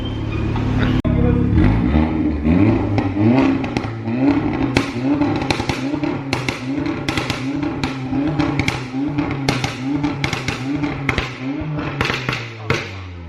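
A tuned Volkswagen Golf R making over 400 bhp revs loudly up close. Sharp, repeated blips of the engine are broken by cracking pops and bangs from the exhaust, and people talk briefly over the noise.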